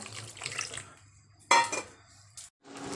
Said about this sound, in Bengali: এবার গাজরের মধ্যে আমি জল দিয়ে গাজরটাকে সেদ্ধ করতে বসাবো।